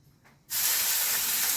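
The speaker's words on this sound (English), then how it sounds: "So now I'm browning my beef." Beef browning in hot cooking oil in a pan: after a brief quiet moment a loud, steady sizzle bursts in abruptly and holds at full strength to the end.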